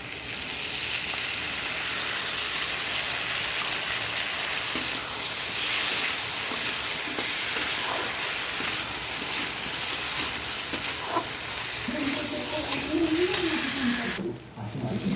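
Spices and a lentil-dumpling curry sauté in a pan, giving a continuous hiss of frying with light stirring taps throughout, and a faint voice rising briefly near the end.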